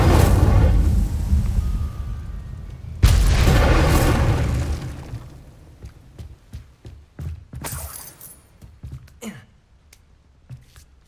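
An Incendio fire spell blasts in the video game Hogwarts Legacy with a heavy booming whoosh, a second roaring burst a few seconds later, then fading crackles and scattered sharp impacts.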